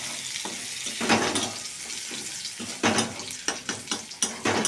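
Garlic sizzles in hot oil in a pan over low gas flame while being tempered and stirred for a bottle gourd dish, a steady frying hiss broken by sharp clinks and scrapes of a spoon.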